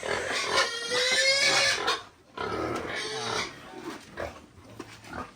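Native cross pigs squeal loudly and close by while being fed in a pen. They give long, harsh, overlapping cries that briefly pause, then resume in shorter bursts.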